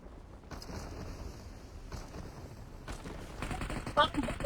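Gunfire in a video game: dense rattling bursts of shots, near and fairly loud, running nearly throughout over a rumbling background, with faint voices nearby.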